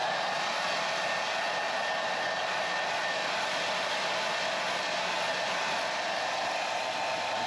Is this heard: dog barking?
no